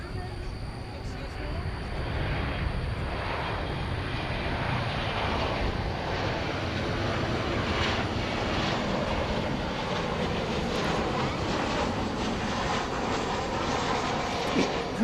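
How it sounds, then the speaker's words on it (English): An American Airlines Boeing 737-800 jet at a night airport, a loud, steady engine roar that holds for the whole stretch while a person talks over it. "This is American 2353, 737-800."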